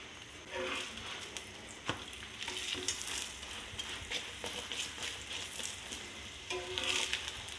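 Ghee sizzles on a radish (mooli) paratha on a tawa griddle, a soft continuous frying hiss with light crackles and occasional scrape or tap, fairly quiet and without speech.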